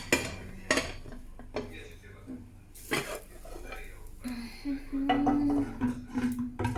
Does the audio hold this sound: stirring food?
yes